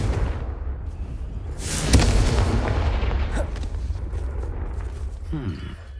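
Fiery Confringo spell explosion in the Hogwarts Legacy video game, a deep rumbling boom swelling around the middle of the clip and then fading, over a steady low game soundscape with a voice present.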